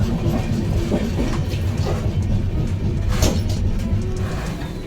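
Passenger train travelling at night on the Mumbai to Dakor route, a steady loud rolling rumble with faint rail clicks and rattles running throughout, no voices.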